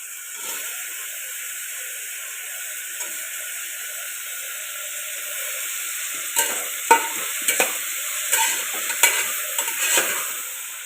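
Washed mushrooms for a biryani sizzle softly in a pan under a steady hiss, then a run of sharp stirring scrapes and clatters in the second half.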